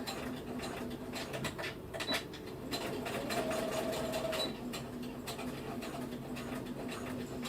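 A sewing machine stitches fabric straight across in quick rhythmic bursts of needle clatter with brief pauses between runs, quiet and close.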